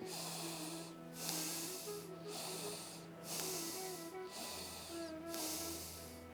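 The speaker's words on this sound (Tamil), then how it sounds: "முதல்ல 3 முறை மூச்சை உள்ளெழுத்து மூச்சு வெளியே விட்டுருங்க." Slow, deep yoga breaths while holding the Prithvi mudra: several rhythmic breathy rushes in and out, close and clear, over soft sustained background tones.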